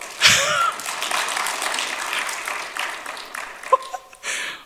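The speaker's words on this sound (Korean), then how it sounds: "여기는 3부 때는 처음부터 박수가 나오네요." A church congregation applauds after a song during a Sunday service, a broad wash of clapping that rises sharply, holds steadily, then thins out, with a brief voice or gasp near the end.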